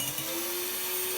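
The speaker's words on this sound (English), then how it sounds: "to use my mixer with 1 whisk" Close, fairly quiet whine of an electric mixer running a single whisk through eggs, a steady motor tone with a slight bump near the start and no voices.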